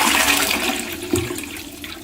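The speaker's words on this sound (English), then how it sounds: "hold down the flush valve, and you're going to hold it down so that this way you get all of the water out of the tank." A toilet flushing with the flush valve held down to drain the tank, a loud close rush of water that gurgles and gradually tapers off, no talk.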